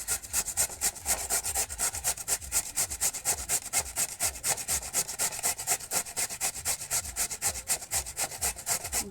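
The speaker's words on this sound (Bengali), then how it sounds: "এখন এই কোয়াশগুলো আমি এরকম মেশিন দিয়ে ঝিরি করে তুলে নিচ্ছি" Squash grated on a grating machine, a continuous rapid rasping of back-and-forth strokes in a steady rhythm, loud and close, with no one speaking.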